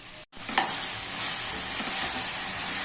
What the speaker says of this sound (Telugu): దీనిలో ఫ్రెష్ కరివేపాకు వేసుకొని చిక్కుడుకాయలు కూడా వేసుకోవాలి.